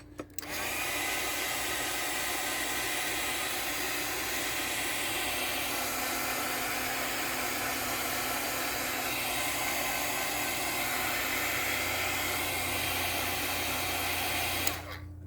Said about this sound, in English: I'm going to dry it with my heat gun